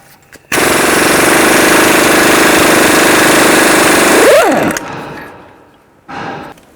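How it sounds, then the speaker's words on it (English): An impact wrench spins a 32mm socket to remove the front axle nut on a 2010-16 Buick LaCrosse: a loud, harsh buzzing burst of about four seconds winds down, followed after a pause by a shorter second burst. "Take a 32mm socket and take this axle nut off."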